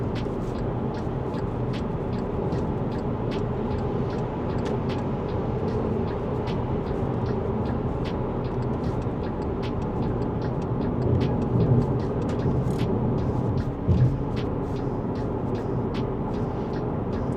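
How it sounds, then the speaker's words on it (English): Steady road roar of tires, plus wind, inside a 2011 Volkswagen Golf cruising at 90 km/h on a highway: a constant low drone with faint ticking bumps, no talk. "most of the noise is coming from the tires"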